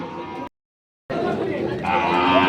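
Cattle, including Sahiwal and beef bulls, lowing amid a busy crowd at a cattle market in Ambari, Dinajpur, Bangladesh, with people chattering nearby, the noise cutting out briefly before resuming, loud and close.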